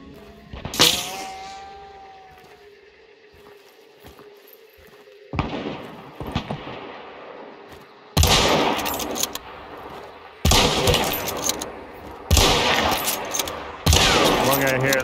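Gunfire in the video game Hunt: Showdown: several loud bursts of shots, each lasting about a second, with a lone report near the start and then repeated volleys at close range. Background talk is faint.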